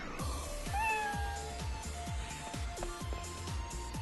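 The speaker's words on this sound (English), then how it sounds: "this time I'm going to have it end with a cat meow" A synthetic cat meow from Disney Infinity 2.0 rises and falls once over a rapid, repeating electronic bounce loop, loud and close, with no talking.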